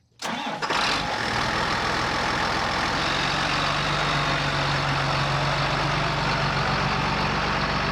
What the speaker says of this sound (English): So we got a little tractor ride this morning.